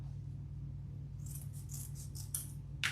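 Scissors snipping through doubled wreath ribbon tails on a Halloween trick-or-treat wreath, a quick series of crisp, close cuts in a quiet room with a low steady hum behind.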